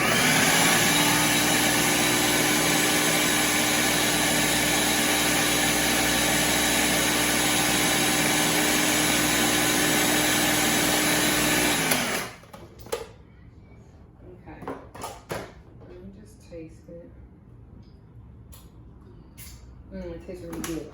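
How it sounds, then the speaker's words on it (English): A blender whirs steadily and loudly through a hot chickpea flour burger mix for about twelve seconds, then stops abruptly, followed by quieter handling noises and a person talking. "So let's blend it some more."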